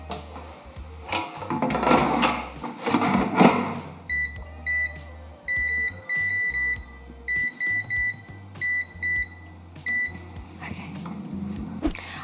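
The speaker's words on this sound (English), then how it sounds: "the timer went off on the air fryer" An air fryer timer beeps repeatedly in a short, regular pattern of electronic tones in a kitchen, following some louder clattering and handling noises at the start.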